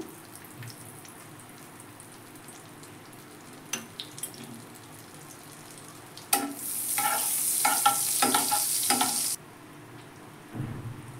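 Chicken pieces frying in white oil and butter for tandoori-style chicken, a loud steady sizzle breaking out midway and running for about three seconds, with quieter kitchen clatter and clinks before and after.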